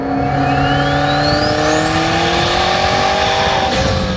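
A 1200 HP triple-turbo McLaren hypercar accelerates hard, its engine note climbing steadily in pitch with a rising turbo whine above a loud, continuous roar, heard close with no talk over it.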